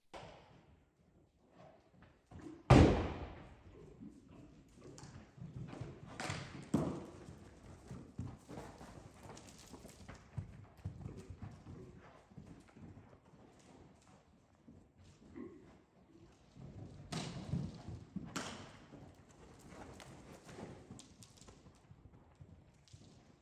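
Horse hooves clip-clop irregularly on the ground during groundwork training, with a sharp thud near the start and scattered steps and scuffs at moderate distance against a quiet background.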